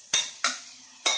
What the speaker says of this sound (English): Stir them well in the oil.